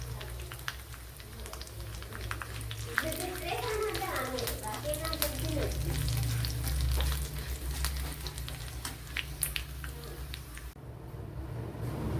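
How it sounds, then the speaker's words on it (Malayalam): Mustard seeds tempering in hot oil for a kingfish curry crackle and sizzle steadily up close, with sharp pops scattered throughout while a voice talks over the cooking. "നമ്മുടെ മീൻ കറിക്ക് വേണ്ടി ചെറിയൊരു കടുതാളിപ്പ് കൊടുക്കാം"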